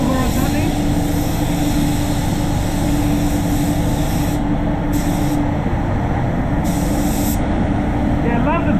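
A spray gun lays basecoat paint on a Mercedes-Benz X250 ute, giving a steady, loud hiss that runs throughout with brief pauses and a low hum behind it.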